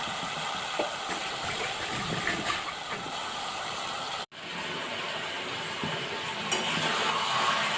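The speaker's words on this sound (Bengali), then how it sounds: "ঢাকাটা খুলে দিয়ে এবার আমি আস্তে আস্তে কষতে লেগেছি" Mutton liver braising in a pan gives a steady low sizzle and hiss with occasional stirring scrapes, plus one brief sharp clatter partway through.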